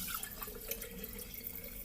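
Water pours from a kettle into a pot for cooking spaghetti, a steady, close liquid splash and trickle lasting a couple of seconds, with no talking.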